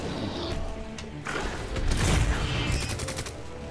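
Gunfire is aimed at the boss Birkin in Resident Evil 2 Remake: a close, loud flurry of shots and booming impacts, peaking near the middle, with no talk over it.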